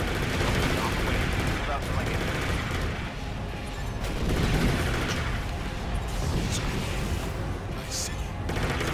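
Machine gun fire in a video game, dense rattling bursts and booms continuing for several seconds, with a player talking over the shooting.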